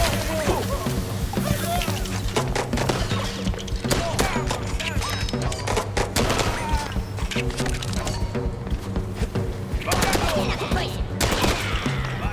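Dense gunfire in a cutscene from the Mouse P.I. for Hire video game, rapid shots crackling continuously over music and layered effects, loud and busy throughout.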